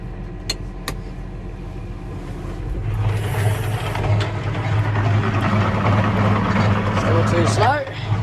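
Tractor engine driving a rotary hoe on a paddock, starting as a low idle then rising in revs to a steady, louder drone with a rattling implement beneath, continuing to the end.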